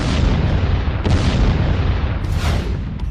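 Iranian ballistic missile strikes explode over Beersheba, Israel: a continuous heavy roar of booms with two or three louder blasts rising out of it, with no voices.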